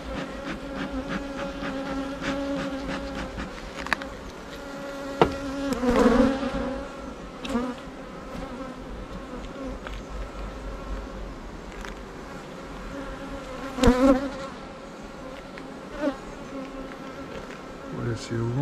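Honeybees buzz steadily at an open hive with brood, a dense continuous hum filling the clip, swelling louder in a couple of close passes.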